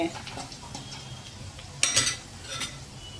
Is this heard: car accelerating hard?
no